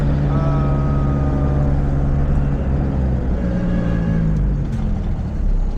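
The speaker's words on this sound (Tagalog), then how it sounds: "Traffic." Steady road traffic noise in heavy, slow-moving traffic, a continuous low engine rumble with passing vehicle drone and faint tonal hums, loud and close throughout with no pauses.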